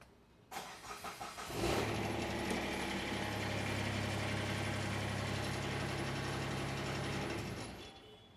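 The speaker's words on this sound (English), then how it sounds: "I'm going to start the tractor here real quick" A tractor engine cranks with a quick mechanical chatter, then catches and settles into a steady, loud, low rumbling idle that runs until near the end.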